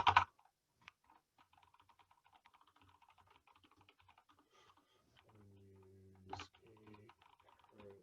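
Light, irregular clicking of fingers typing on a computer keyboard during a CakePHP coding workshop, quiet keystrokes in bursts with a few sharper taps and a brief low hum partway through.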